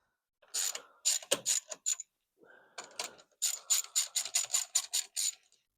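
A ratchet clicks rapidly in two close bursts while loosening a bolt that holds a fuse down on a Nissan S15 Silvia, the rhythmic pawl ticks separated by a short pause, with no speech.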